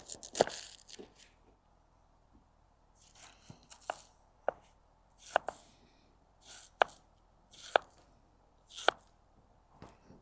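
A boat knife cuts through sausage and apple on a board, giving about ten crisp separate chops and slices spaced a second or so apart, close and clear against a quiet background without talk.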